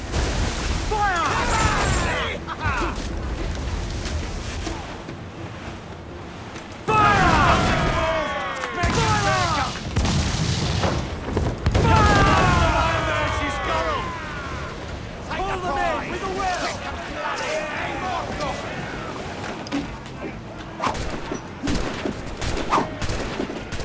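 Repeated cannon broadsides from a pirate ship in Assassin's Creed IV: Black Flag, loud booming volleys in bursts over a continuous bed of game noise, with voices shouting orders throughout.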